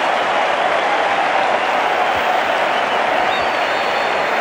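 Large cricket crowd at the Sydney Cricket Ground roaring and applauding after an Australian wicket in a 1985 World Series match against the West Indies, a steady, dense wash of cheering that holds at full volume throughout.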